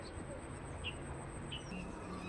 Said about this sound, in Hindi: बुलबुल चिड़िया अपने साथी को पुकारते हुए।